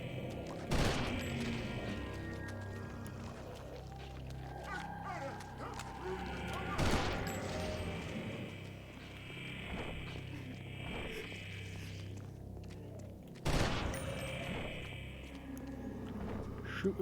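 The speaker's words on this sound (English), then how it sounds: "Shoot him in the tail, says Effigy" Gunshots ring out in the video game Eternal Darkness, three sharp loud bursts spaced several seconds apart over a busy background of game sounds and music.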